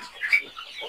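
Sonali chickens on a poultry farm give short, overlapping clucks and squawks nearby, a brief flurry of fowl noise.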